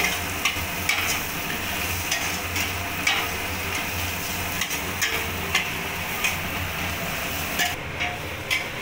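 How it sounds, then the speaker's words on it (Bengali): A spoon stirs ground black pepper, cumin powder and a few peanuts frying in a pan for an egg pakora dish, giving a steady close sizzle broken by regular scraping knocks, with no talking. "এবার ভালো করে মশলাটা নাড়িয়ে নেব।"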